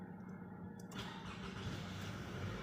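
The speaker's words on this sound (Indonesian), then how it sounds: "Langsung nyalain aja mobilnya." A 2007 Toyota Alphard engine starts after a brief crank, then settles into a steady, fairly quiet idle heard close by with no talking.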